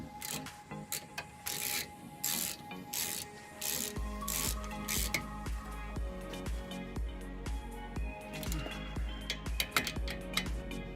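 A ratchet clicks in short rapid bursts while tightening a brake caliper bolt on a Honda during a brake pad replacement, close and crisp, with metallic clinks and a steady low hum underneath.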